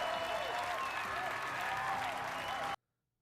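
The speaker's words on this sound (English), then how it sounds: "The crowd erupts." A crowd erupts in applause, a dense steady burst of clapping and cheering that holds loud under a voice before cutting off abruptly into silence.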